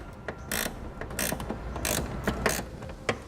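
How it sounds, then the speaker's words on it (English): A ratcheting wrench works a 10mm bolt on a 2017 Chevrolet during a base plate install, giving quick bursts of close clicking in short strokes with brief pauses between them. "A ratcheting wrench is basically the only way you're going to get this out."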